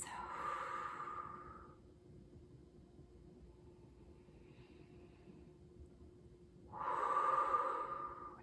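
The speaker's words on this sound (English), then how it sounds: "take some deep belly breaths" Slow, deep belly breathing during a calm meditation: a long, soft airy inhale or exhale, a quiet pause, then another breath, close up with no talking.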